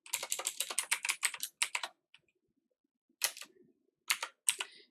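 Fast, crisp typing on a computer keyboard, a rapid run of close keystrokes, a pause, then a few more short bursts of key presses in a quiet room.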